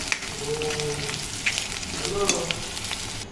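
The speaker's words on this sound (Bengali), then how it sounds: "ডাল বাগারের জন্য পেঁয়াজ, রসুন, শুকনো মরিচ সব একসাথে ভেজে নিচ্ছি" Onion, garlic and dried chili fry in hot oil for a dal tempering, a close, steady sizzle broken by a few light stirring scrapes and small pops, with no talking over it.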